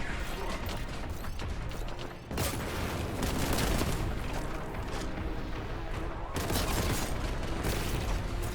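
Gunfire and an exploding barrel in the video game Warhammer 40K Boltgun, a dense, loud continuous barrage of shots and booms with mechanical clatter running throughout.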